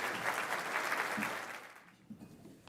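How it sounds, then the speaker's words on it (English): Applause for the nominees at The Trustees annual meeting, a moderate, fairly quiet round of clapping that fades out after about two seconds and leaves a few isolated claps. "Let's have a round of applause and congratulations to everybody who's been nominated."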